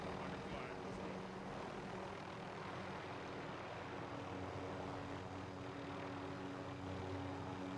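Helicopter flying in the shooter game Mini Royale, a continuous rotor and engine drone holding steady and fairly close throughout, with some background game noise.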